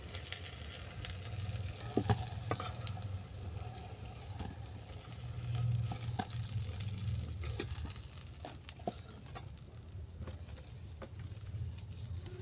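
Faint sizzling of bay leaves and dried red chillies in hot oil, with a few sharp crackles over a low background hum.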